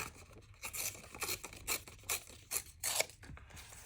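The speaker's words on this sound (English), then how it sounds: "So I'm going to just tear it this way. I think I'm going to do a finger tear." A paper strip, washi-style craft scrap for a junk journal, is torn by hand in a series of short, close, crisp ripping bursts with brief pauses between them.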